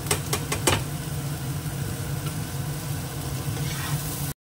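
Carrots frying in a pan with potatoes in a home kitchen, a steady close sizzle with a few sharp utensil knocks near the start.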